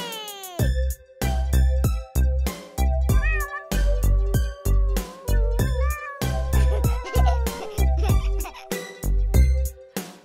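Repeated meows, voiced imitations of a cat sung in a nursery rhyme over an upbeat music track with a punchy, regular drum beat.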